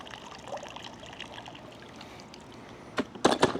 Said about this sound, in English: when you pick it up, you can see the water comes out within 5 seconds as advertised